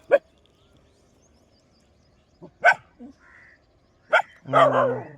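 Dogs barking in the distance, a few short, sharp barks spaced apart, with a brief lower howl-like call at the end, faint against near silence.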